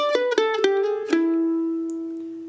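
Bluegrass mandolin lick over an E measure from a solo, a bluesy backwards G-run phrase: a few quick, bright picked notes lead into one ringing, sustained note that slowly fades, played alone and close.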